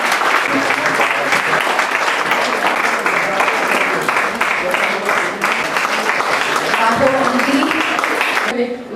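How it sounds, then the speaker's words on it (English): Sustained audience applause fills a women's day ceremony at a dental college, steady dense clapping for about nine seconds, with faint voices underneath before it cuts off. "So we should clap for her."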